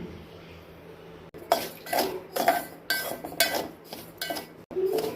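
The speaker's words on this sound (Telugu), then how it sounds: "కొద్దిగా నెయ్యి వేసుకొని రవ్వ వేయించుకోవాలి." Semolina roasts with ghee and sugar in a pan while a spoon scrapes and clinks against the metal in quick repeated strokes, close and fairly loud, with brief pauses between bursts.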